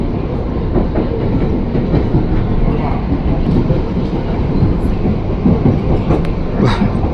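KRL commuter train rolling through Kemayoran station, a loud steady rumble of wheels on rails with faint rhythmic clicking, continuous throughout at close range.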